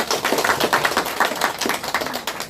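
A small group claps for a lecturer at a motivational talk, distinct individual claps in a loose, uneven rhythm, close and moderately loud, with no voices.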